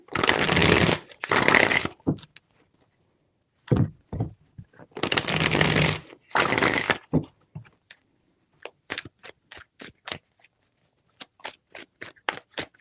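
Tarot cards riffled and shuffled by hand in several loud bursts, then a run of quick separate flicks and taps as cards are cut and laid down, close and alone.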